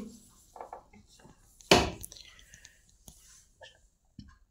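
Thick marker pen shading a scenery drawing on paper: soft, scratchy, close-up strokes with one sharper knock partway through, and no talking.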